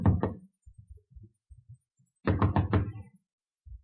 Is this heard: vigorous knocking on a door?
yes